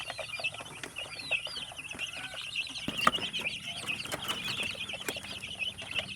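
Chicks in a warm, lamp-heated brooder box keep up a busy stream of high peeping and chirping, with occasional soft clucks and light taps from the pen, close and steady throughout.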